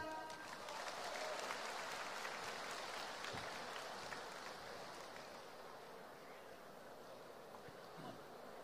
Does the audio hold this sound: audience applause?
yes